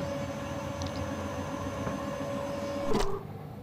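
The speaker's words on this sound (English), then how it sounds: "Could we just use the wrench on the lever then?" A wrench forcing a rusted lever in the adventure game The Journey Down, heard as a steady metallic grinding drone that ends in one sharp clank near the close.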